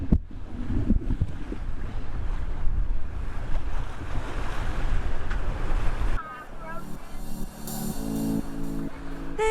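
A sailboat in the Mediterranean in winter, with steady rushing waves and wind noise buffeting the microphone, then music coming in partway through.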